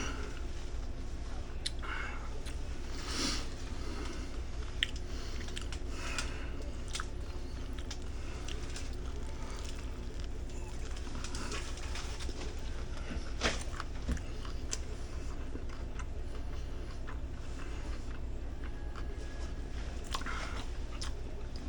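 Subway roast beef sub being chewed and bitten up close, steady soft wet mastication with repeated crunchy bites over a continuous low background hum.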